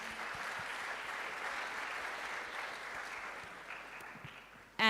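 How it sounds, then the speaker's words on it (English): Steady audience applause for moot court competition finalists at a human rights closing ceremony, continuous clapping from a crowd that fades slightly before a louder burst at the end. "a round of applause for the finalists for such an amazing round."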